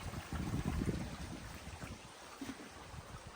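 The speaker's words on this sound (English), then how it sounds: "Nice sound of trickling water." A small peaty stream trickling under a little bridge in the Northumberland hills, a soft, steady babble of running water heard close by with no one talking.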